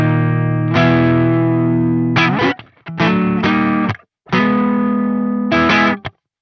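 Electric guitar through a Soldano SLO-100X amp, saturated overdriven chords struck in short bursts with sharp stops and brief silences between phrases, loud and close without talk.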